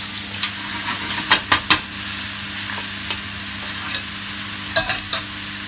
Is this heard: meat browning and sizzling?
yes